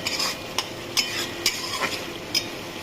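Spice-rinse water from the mixer poured into a pan of frying butter chicken masala, bringing a steady sizzle with a few sharp spoon-and-pan clinks as it is stirred, close and fairly quiet.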